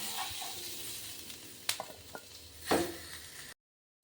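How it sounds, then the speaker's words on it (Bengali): Capsicum and onion petals frying in hot oil in a pan, giving a steady soft sizzle with a few sharp stirring clinks and scrapes, then a sudden cut to silence near the end. "এগুলি আমি ভালোভাবে ভেজে নিচ্ছি ক্যাপসিকাম আর পেঁয়াজের পাপড়িগুলো ভাজা হয়ে গেল"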